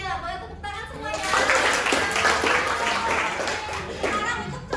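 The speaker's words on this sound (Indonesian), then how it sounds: "Boleh tepuk tangan semuanya" An audience claps for the most active girl at an Indonesian youth outreach session, a dense, moderately loud burst of applause that starts after a second of quieter room noise and carries on with a few voices mixed in.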